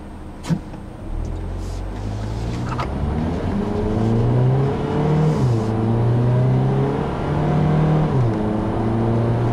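A 2013 Ford Fiesta Titanium with a dual clutch automatic accelerates after a brief thump, its engine note climbing and dropping through several smooth gear shifts.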